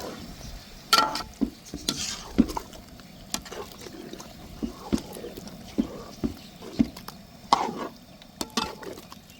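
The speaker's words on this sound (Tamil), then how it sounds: "கோழிக்கறி எல்லாத்தையும் ஒன்றா மிக்ஸ் பண்ணி எடுத்துக்கலாம்." Repeated stirring and scraping of chicken curry in a pan over a soft sizzle, with irregular clinks and wet slaps of thick food being mixed.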